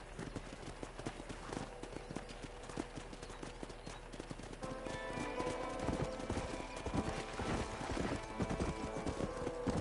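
Horse hooves clip-clopping in a steady rhythm in the video game Red Dead Redemption, growing busier and louder partway through, with a horse whinnying amid the trotting.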